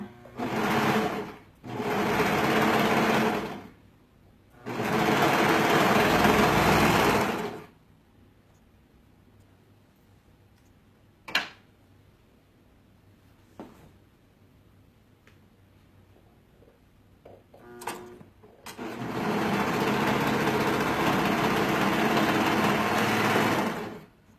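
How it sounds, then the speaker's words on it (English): A serger trims and overlocks a shirt's fabric edge in loud, steady motor runs, two short bursts, a longer one, then a final long run, with quiet fabric handling and small clicks in the pause between. "I'm just going to trim off that extra fabric and serge it"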